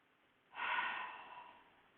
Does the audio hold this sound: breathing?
yes